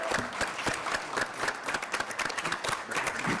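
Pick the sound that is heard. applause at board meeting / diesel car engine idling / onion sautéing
applause at board meeting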